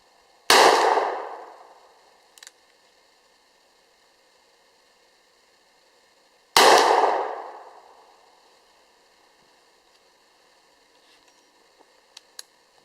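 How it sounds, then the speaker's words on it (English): Two loud, sharp reports about six seconds apart from a handgun firing factory-loaded .480 Ruger ammunition, each with a short decaying tail, followed by faint small clicks and no talking. "we're going to fire off one factory loaded piece of 480 Ruger ammunition"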